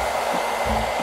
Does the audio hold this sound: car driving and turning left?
no